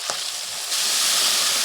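Hot sizzling in a pan of chhana (cottage cheese) curry with peas swells into a louder, steady hiss as water is poured in, close and continuous with no talk.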